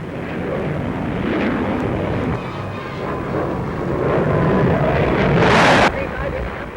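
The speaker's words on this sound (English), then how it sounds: "Wimpy Wade, chief test pilot of Hawkers, flies the P1081 fighter with its Rolls-Royce Nene turbojet engine." A Hawker P1081 fighter powered by a Rolls-Royce Nene turbojet roars past at an airshow, a broad rushing jet noise that builds and peaks in a sharp hissing surge near the end before easing off.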